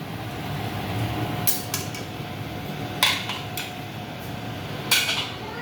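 Aloo bhujia is spooned from the pan into a serving dish, giving a few light metallic clinks and scrapes spaced apart over a steady low hum, close and fairly quiet, with no talking.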